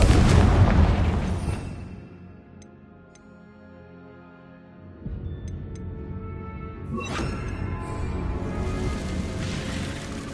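A Confringo fire spell from the Hogwarts Legacy video game bursts in a loud explosive blast that decays into rumbling, followed by a second impact and crackling blast several seconds later.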